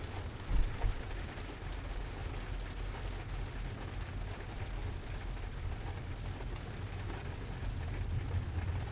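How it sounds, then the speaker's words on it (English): Heavy rain pours down outdoors, a dense, steady roar of falling water that holds throughout with a slight swell near the end and a brief bump early on, with no voices. "The rain's picked up, that's for sure."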